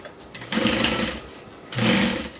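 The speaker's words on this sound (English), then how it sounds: "Let me sew these open" Sewing machine stitching open the seams of a handmade bag, running in two loud bursts with a short pause between them, close up with no talk.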